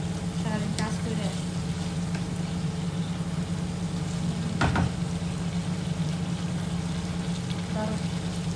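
Salmon curry sautéing in a pan gives off a steady, even sizzle with a few brief clatters of stirring, continuous and close throughout.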